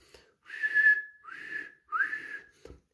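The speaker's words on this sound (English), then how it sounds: "The guard blew his whistle and off they went again." A guard's train whistle sounds in a children's story about a tank engine and his coaches: three sustained, high whistle blasts, each rising at the start, close and clear with short pauses between them and no talking.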